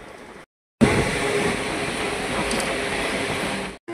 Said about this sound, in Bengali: সবুজে মোড়া ক্ষেতের মাঝখান দিয়ে ছুটে চলছে আমাদের ট্রেন।